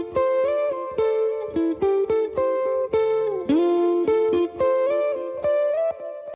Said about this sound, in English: This is what the main lead guitar sounds like.